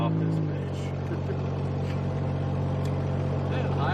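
A Ford Mustang engine hums steadily with road noise while driving, under someone talking.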